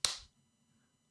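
A single sharp hand clap close to a webcam microphone in a quiet room, one crisp bright crack with a short decay and near silence afterward.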